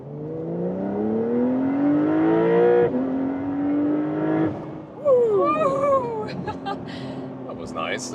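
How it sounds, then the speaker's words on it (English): A rear-wheel-drive Porsche 911 Carrera S in sport mode accelerates hard onto a freeway from about 25 to 80 mph. The loud engine note climbs steeply through two gear changes, then drops back as other, higher sounds take over. "Yeah, beautiful acceleration from the rear-wheel drive model"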